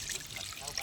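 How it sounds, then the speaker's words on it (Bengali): Water trickles and splashes as it is poured onto a potted lotus plant, a soft, close, continuous pour lasting under a second. "এমনভাবে জলটা দেবো আমি যে পাতাগুলো যেন ওপরে থাকে।"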